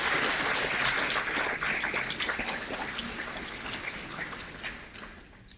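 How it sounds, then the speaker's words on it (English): An audience at an annual open meeting applauds in a dense, crackling wash of clapping that starts full and gradually thins and fades out. "Please join me in thanking all of these generous supporters with a round of well-deserved applause."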